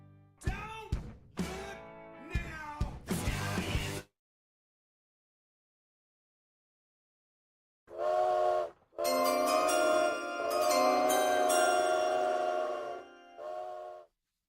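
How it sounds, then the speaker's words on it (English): A sustained, sharp train whistle blares for several seconds after a stretch of silence, preceded by a few short tonal chirps. "I heard a train."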